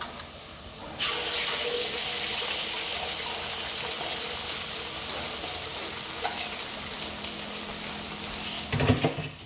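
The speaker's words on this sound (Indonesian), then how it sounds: "Ini udah panas minyaknya. Saya goreng dulu telurnya lah." An egg dropped into hot oil in a home kitchen, bursting into a loud continuous sizzle and crackle that holds steady, with a brief clatter near the end.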